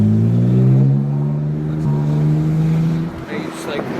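A car engine revving during rev-matched downshifts on a bumpy dusty road, loud droning tones climbing and shifting, then a drop and burble near the end, with no talk over it.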